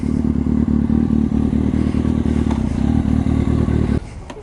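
A motorcycle being ridden, with a loud, close engine chugging in a rhythmic pulse and rattling mechanical clatter. The engine note drops abruptly near the end, as if a gear has been shifted or the throttle closed.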